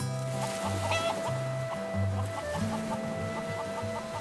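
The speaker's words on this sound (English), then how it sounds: "infestation of chickens." Chickens clucking in a steady, busy chorus close by, overlapping calls with a faint hum in the background.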